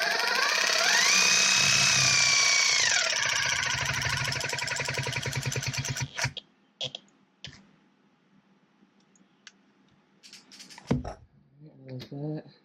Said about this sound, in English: when you zip these in with a drill, don't go flying on with it